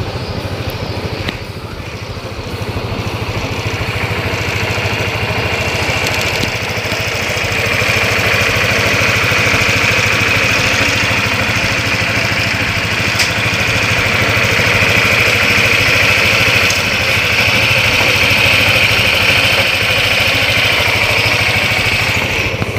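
A steady, loud idle from a new motorcycle engine runs continuously and close, with an even low rumble and constant mechanical hum throughout and no voices.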